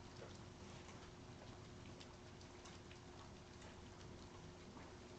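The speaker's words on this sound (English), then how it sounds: "It's also kind of raining," Light rain falls outdoors on a dull gray day, a steady soft patter with faint scattered drops, continuous and even throughout with no voices.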